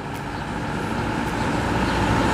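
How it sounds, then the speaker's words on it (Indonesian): A bus idling and rumbling inside the busy Pasir Hayam bus terminal in Cianjur, a steady loud engine drone with general terminal noise and no voices. "Marita, ramai di dalam terminal bus Pasir Hayam."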